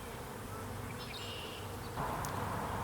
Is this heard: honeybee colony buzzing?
yes